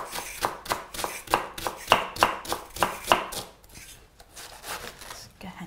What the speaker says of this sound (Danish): Og kålen skal bare snittes i de her lange, fine strimler.